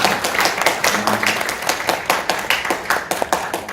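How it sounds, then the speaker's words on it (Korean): Audience clapping at a youth rally, a close, continuous patter of many hands with uneven, rippling rhythm, sustained throughout. "앞서 박수 한번 좀 크게 보내주시죠"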